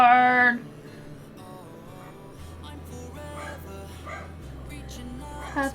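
A puppy lets out one loud, high-pitched yelping bark right at the start, followed by quieter background sounds and a few faint, brief higher-pitched noises later on.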